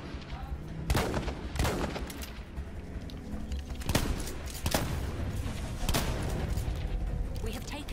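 A player's gun firing in Battlefield 1: several sharp, loud shots in an irregular rhythm over a busy battlefield din, with a voice talking in the background.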